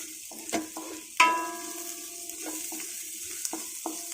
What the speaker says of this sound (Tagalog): Isutay lang natin hanggang lumabas yung aroma